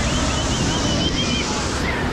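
Loud, steady roar of surf breaking at Agua Dulce beach in Chorrillos, Lima, mixed with heavy wind buffeting the microphone, with no voices.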